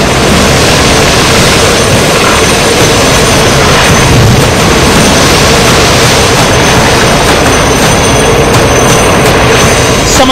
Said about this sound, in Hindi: यह हेलीकॉप्टर समंदर के ऊपर लगातार चक्कर काट रहा है।